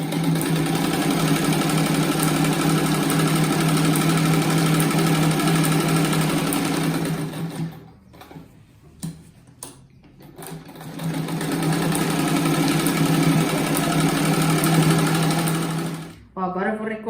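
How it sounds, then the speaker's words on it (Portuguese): A sewing machine stitches around the edge of a fabric-scrap patchwork rug square, running in a loud, steady close-up whir, pausing briefly mid-way for a few clicks and handling sounds before resuming. "Agora eu viro ele e passo uma costura toda a volta aqui também."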